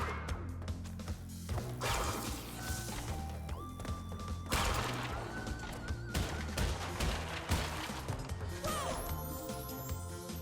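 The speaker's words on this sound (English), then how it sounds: "I can let the TNT just detonate on those crates, and it still gives me the benefit" TNT crates detonate in Crash Bandicoot N. Sane Trilogy, several sharp crashing blasts and thuds at uneven intervals, mixed with bright game effect tones and background music.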